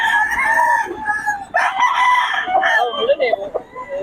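An 11-month-old stag rooster crows loudly and close, in two drawn-out calls, followed by shorter clucking, while people talk faintly nearby.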